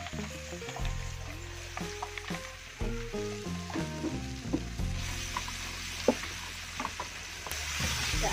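Blended spice paste frying in hot oil for Aceh satay, a steady close sizzle with soft stirring scrapes and small bubbling pops throughout.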